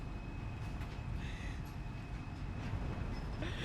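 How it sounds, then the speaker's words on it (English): Steady rumbling of a monorail ride in Death Stranding 2, a continuous low mechanical drone with faint rattles and a few soft higher tones drifting through. "we're on the monorail"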